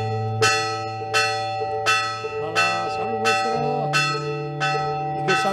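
A church bell at the hermitage of San Juan on Gaztelugatxe tolls about seven slow, evenly spaced strikes, each ringing out with a long resonant decay and sounding close and loud.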